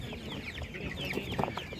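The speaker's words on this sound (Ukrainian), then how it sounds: "Курей багато, курей різних, курей достатньо." Chickens cluck at a busy animal market in Ivano-Frankivsk, their calls mixed into a dense, continuous crowd-and-stall din, with a few clucks rising slightly louder near the end.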